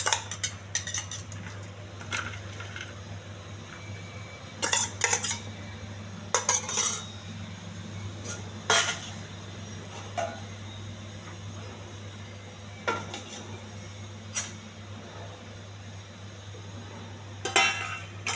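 Cutlery and steel dishes clink and clatter in short, scattered bursts while a lunch box is packed with plantain fry and pea stir-fry, over a steady low hum, with no talking.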